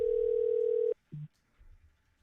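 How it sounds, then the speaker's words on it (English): A telephone dial tone sounds loud and steady for about a second after the caller hangs up, then cuts off and is followed by a short lower beep and faint rustling. "Damn, you hanging up on me already"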